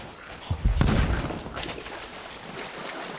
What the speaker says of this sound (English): Wait, I just heard cannon fire.